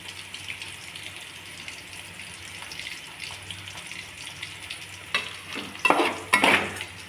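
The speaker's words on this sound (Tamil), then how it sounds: "தவாவில் அந்த மாதிரி இல்லை எண்ணெய்லாம் வெளியில் சிந்துது" Rock fish coated in a ground coconut and small-onion masala is frying in oil on a flat tawa. A soft, steady sizzle breaks into louder spitting and crackling bursts near the end, with no voices.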